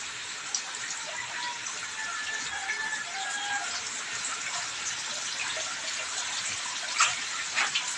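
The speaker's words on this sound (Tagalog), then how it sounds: "So, galing doon sa taas yung tubig." Water runs from above down through a vertical crab farming setup, a continuous splashing trickle heard close with a few sharper drips and splashes near the end.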